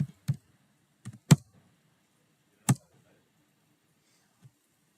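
A handful of isolated keystrokes on a computer keyboard, typed slowly and unevenly by a hunt-and-peck typist, with long pauses between the close, quiet clicks and no voices.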